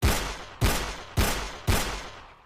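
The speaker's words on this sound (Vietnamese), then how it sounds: "Hàng loạt tiếng súng vang lên dữ dội từ phía sau." A volley of gunfire: four heavy, evenly spaced booming shots about half a second apart, each with a long decaying tail, loud and close with no voices.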